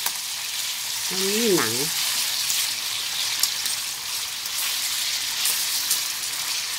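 Pork leg frying in a pan, a steady loud sizzle and spatter throughout, with a voice speaking briefly over it.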